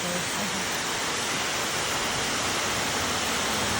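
A roadside waterfall roars as a dense, steady wash of falling water, loud and unbroken with no voices over it.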